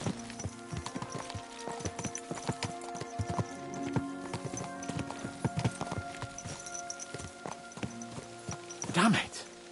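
Horses trot with a steady clip-clop of hooves amid clattering tack, with a whinny-like burst near the end and a voice talking over the hoofbeats.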